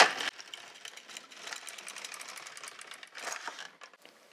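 The carriage of an LK 150 knitting machine slides across the needle bed to knit a single row, making a dry, rattling, mechanical whir that starts with a sharp clack and fades out after a few seconds.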